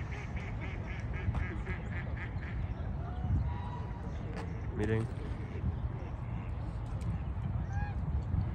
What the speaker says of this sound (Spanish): allá van los gansos, ahí están los patos